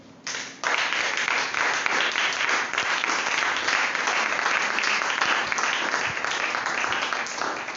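A church congregation breaks into sustained, loud applause acclaiming the Lord, a dense even roar of many hands clapping continuously after a brief quiet start.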